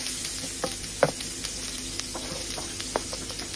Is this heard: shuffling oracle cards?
no